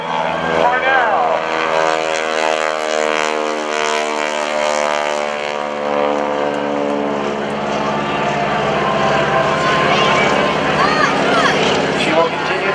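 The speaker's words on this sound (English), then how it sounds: "shake out the airplane to make sure the engine is working fine, perfectly" Loud, droning propeller biplane engine at an airshow with a steady pulsing hum, close and sustained, with a voice talking faintly underneath.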